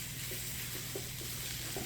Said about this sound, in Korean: 그 기름에 이 고춧가루를 볶아주는 거예요.